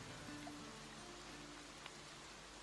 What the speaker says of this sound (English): to the pounding of the rain on the roof and the sound of distant thunder